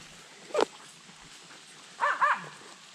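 A dog gives a short yip, then after a pause two quick barks or whimpers, faint against a quiet outdoor background.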